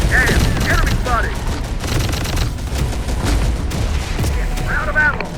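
Enemy gunfire in the Terminator: Dark Fate - Defiance video game rattles in dense, continuous bursts with booming impacts, while voices call out over the shooting.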